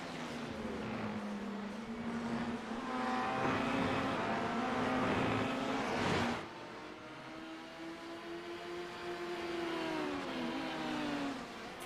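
LMP1 prototype race cars cross the start-finish line at Le Mans in a sim racing game, with high engine whines climbing in pitch. One car roars past midway and another follows, pitch bending as it passes.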